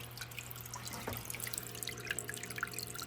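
Aquarium filter switched back on after tank cleaning, water dripping and splashing in a steady busy patter with a brief louder gush near the start, close by.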